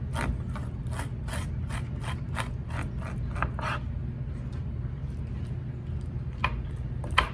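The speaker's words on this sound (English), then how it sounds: "it's always good that you hold the top and then you're scraping, a few inches below you" Scales scraped off a bonefish (o'io) with the grain, heard as a quick run of close, rhythmic rasping strokes over a steady low hum, then a pause and a few final scrapes.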